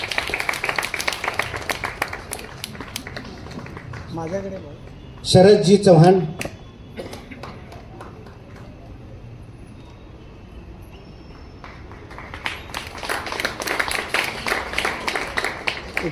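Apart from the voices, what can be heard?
continuous clapping during a religious gathering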